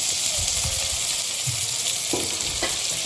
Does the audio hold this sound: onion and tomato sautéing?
yes